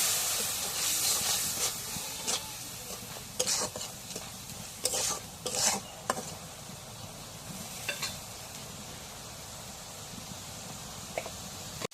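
Spice masala stir-frying in a pan, a steady hissing sizzle with bursts of scraping and clattering as a spoon works the mixture, ending abruptly.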